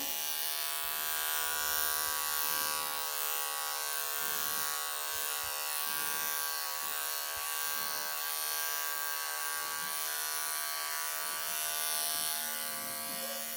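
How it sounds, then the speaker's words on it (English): Electric clippers buzzing continuously at close range while trimming matted fur on a Persian Chinchilla cat, a steady electric drone with slight variations as the blades move through the coat. "He's used to the clippers because he has been line clipped with me earlier in the year"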